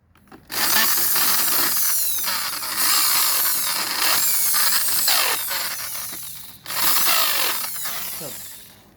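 A power drill whines loudly in three long bursts with short pauses between, close up and harsh, drilling into the engine mounting bosses of a KT-CS1700 chainsaw.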